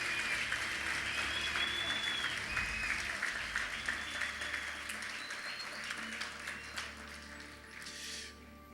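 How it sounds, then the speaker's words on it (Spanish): Loud, sustained audience applause fills a church service, steady dense clapping with a few whistles, easing slightly toward the end. "Damos un fuerte aplauso a su presencia"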